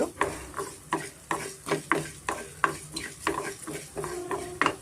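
Cumin and black pepper roasting in oil for a rasam premix, heard as a steady soft sizzle with repeated rhythmic stirring scrapes about every half second, close and moderately loud, no talking.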